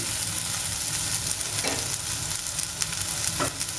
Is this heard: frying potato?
yes